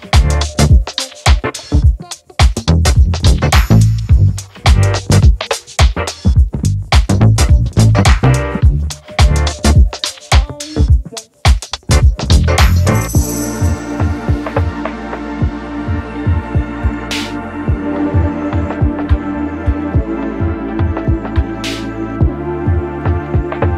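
A 6.0 Powerstroke diesel truck engine with a no-start fault grinds through about thirteen seconds of loud rhythmic cranking, then catches and settles into a steady, droning idle up close.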